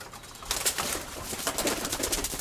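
White-tailed pigeons coo in a loft, soft repeated rolling calls close by over a continuous rustle and background hum, with no talking.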